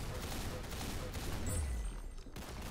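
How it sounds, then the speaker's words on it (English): Rail gun fire in a Roblox shooter: a dense burst of game gunfire with heavy low booms, loud and steady through the whole stretch, with faint voice traces mixed underneath. "Now, this gun is a rail gun."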